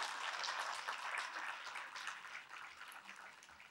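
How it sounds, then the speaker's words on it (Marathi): An audience at a public inauguration event claps for arriving guests, a continuous crowd applause heard fairly quietly and from a distance, slowly tapering off. "आलेल्या पाहुण्यांचं जोरदार टाळ्यांनी स्वागत करूयात."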